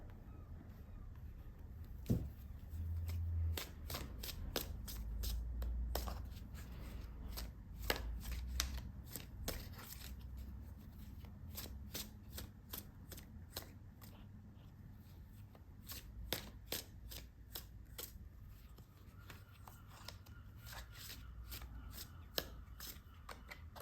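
Tarot deck shuffled and a card drawn, with long stretches of soft, steady card rustling punctuated by sharp snapping clicks, close-up and with no one speaking.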